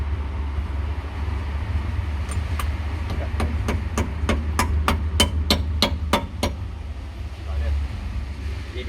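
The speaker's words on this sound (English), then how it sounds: "Use a rubber mallet or a plastic one, otherwise it's going to get dented if you use a metal" A rubber mallet taps a wheel bearing cap on a Mercedes-Benz about a dozen times, each strike a crisp, evenly spaced knock, over a low steady background hum.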